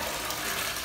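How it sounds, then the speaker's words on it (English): Water rushing steadily from a wall-mounted flush on a toilet aboard the Queen Mary ship in Long Beach, California, a continuous close gush with no pauses. "in order to flush the toilet, there's this thing on the wall"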